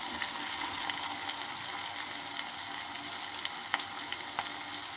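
Vegetable upma bubbles and sizzles in a pan, a continuous even hiss of cooking with faint scattered ticks and pops throughout, no talking.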